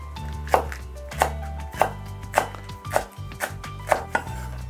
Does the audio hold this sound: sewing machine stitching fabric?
no